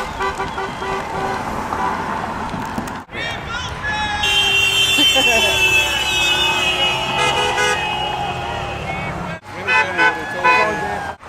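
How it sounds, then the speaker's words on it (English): Passing cars honk at a street protest outside a Detroit television station, with long sustained horn blasts and overlapping tones over traffic noise and background voices. "then they start honking."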